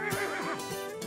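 A cartoon horse neighs in a children's animated show, a single clear, close whinny rising and falling for about a second.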